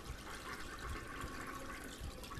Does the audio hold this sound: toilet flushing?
yes